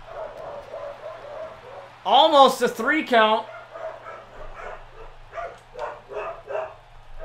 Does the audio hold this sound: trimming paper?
no